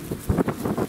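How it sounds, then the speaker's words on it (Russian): Short gusts of wind buffet a microphone, producing low rumbling thumps that come in quick uneven bursts. "Ветер капец просто."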